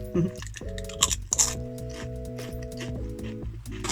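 Close-up crunching and chewing of crisp snacks in several bursts, with a low humming voice-like tone underneath.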